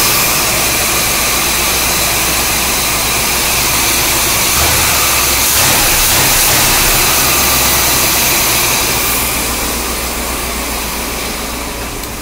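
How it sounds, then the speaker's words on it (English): A 1977 Corvette barn-find V8 idling at about 900 RPM, a loud, close, steady engine drone with a constant low rumble and no talk over it. "Idling right at about 900 RPM."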